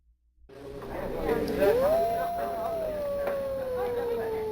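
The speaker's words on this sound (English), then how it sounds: "It was a wolf's howl" A wolf howls in the video game Dracula Unleashed, one long rising then slowly falling howl that swells in and sustains loudly over eerie background ambience.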